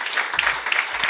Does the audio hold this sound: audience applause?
yes